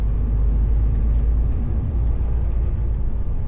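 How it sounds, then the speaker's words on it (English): Traffic at a busy roundabout narrowed to one lane by roadworks: a constant heavy low rumble of engines and tyres, close and loud, with no pauses or distinct passes. "It's a fairly busy roundabout."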